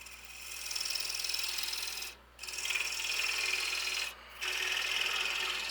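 A turning gouge cutting down a wooden jam chuck spinning on a lathe, a steady close scraping rasp over a low motor hum, broken twice by brief pauses as the tool lifts off.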